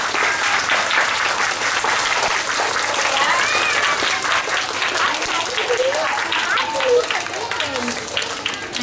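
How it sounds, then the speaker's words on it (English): A school assembly audience applauds a grade 1 class, producing steady, dense clapping from a crowd of children and adults. Scattered voices and cheers come through the applause. "So everybody give a big round of applause for grade 1 class."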